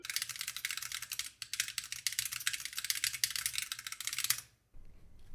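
Fast, steady typing on a split-spacebar mechanical keyboard with lightweight linear switches gives a dense run of crisp, clacky keystrokes close by, then stops abruptly near the end, leaving faint background noise.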